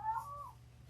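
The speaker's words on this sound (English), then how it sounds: "That's actually a cat out there." A cat outdoors lets out a single short, faint meow that rises and trails off, heard from a distance through a quiet room.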